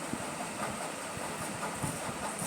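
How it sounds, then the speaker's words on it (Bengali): Kochuri frying in a pan of hot white oil, a continuous bubbling hiss with faint crackles throughout, fairly quiet and close. "এবার এইগুলো সব ভেজে নেব"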